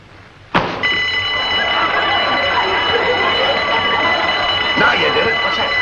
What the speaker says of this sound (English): That was a burglar alarm.